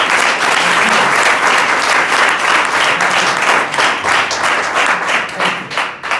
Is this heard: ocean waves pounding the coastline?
no